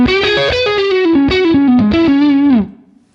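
An electric guitar played through a Vox amp with a British-voiced tone gives a distorted, chorus-tinged melodic phrase of sliding, sustained notes that rings loudly for about two and a half seconds before cutting off into a brief fading tail.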